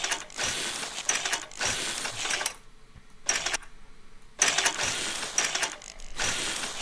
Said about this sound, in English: actually weld this together.